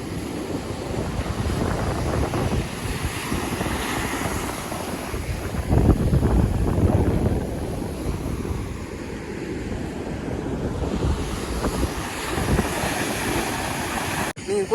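Ocean surf at Marina Beach in Chennai rolls in as a steady, close wash of breaking waves, with strong wind buffeting the microphone and a louder surge about midway through.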